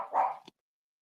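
A dog gives a single short bark up close, loud and abrupt, followed by silence.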